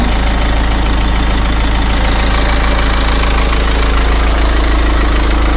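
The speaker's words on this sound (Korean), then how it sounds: "지금 엔진 소리 큰 거 아니고 극히 정상이에요" A BMW X4 engine idles with a loud, steady, even hum that stays constant throughout, recorded very close with no talking.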